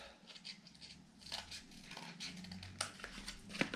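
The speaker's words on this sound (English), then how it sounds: "just cut two small semicircles out the top" Scissors snip small semicircles into a folded piece of sock-puppet beak material, with a few quiet close crisp cuts and crinkly handling sounds spread across a few seconds.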